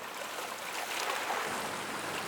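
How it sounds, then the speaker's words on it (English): A gentle, steady wash of Thames river water lapping on mud at the foreshore, a soft continuous hiss and ripple with no voices. "Can you just hear that gentle wash of the water on the mud?"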